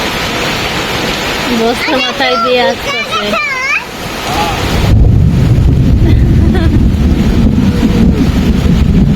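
Heavy rain pouring down, a broad steady roar that swells louder midway and stays dense and close; a person speaks over the first part before the downpour dominates alone.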